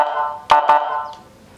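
First tone of a seven-tone electronic siren played through a 30-watt TOA horn speaker: a loud, steady buzzy electronic tone broken by two sharp clicks, then fading out.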